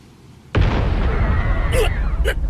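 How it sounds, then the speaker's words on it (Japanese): A sudden explosion in the Bleach Rebirth of Souls video game: a loud boom that rolls into a sustained rumble, with brief higher bursts layered on top. "爆発のような音がしたか"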